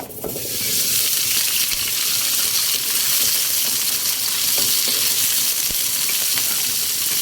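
Potatoes, carrots and atchara with curry powder sizzle loudly and steadily in a pan, a dense continuous hiss with faint scraping ticks, close and without talk.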